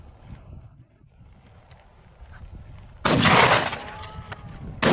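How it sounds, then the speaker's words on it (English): A single loud gunshot fired at a wild boar during a hunt outdoors, a sudden broadband blast over windy background that rings out and decays, with a second burst starting right at the end. "The first shot missed."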